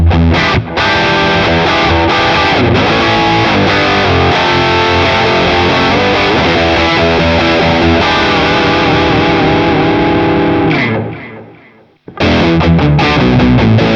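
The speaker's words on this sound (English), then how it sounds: "For the effects, we've got an octave, got a univibe if you want to try that out." Electric guitar played loud and sustained through a Boss Katana Gen3 amp with octave, univibe, boost and plate reverb engaged, thick chorused distortion running continuously before a sudden cut near the end and a quick return.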